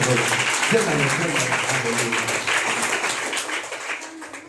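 A church congregation claps together at a prayer service, dense steady clapping that gradually fades, with voices mixed in.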